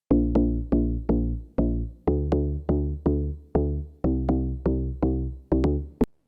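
Deep house bass patch built in the Serum synth, with reverb: about fourteen punchy plucked bass notes in a steady syncopated rhythm, each decaying quickly, loud and alone with no voices.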